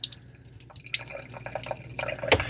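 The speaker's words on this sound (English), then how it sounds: "you can dump all this out with this port right here" Dirty water pours out of the emptying port on a Shark StainForce spot cleaner's tank, a steady close splashing and trickling stream that swells briefly near the end.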